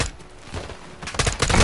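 Bursts of gunfire from a Call of Duty Modern Warfare II campaign firefight, loud rapid cracks clustering toward the end over a noisy background.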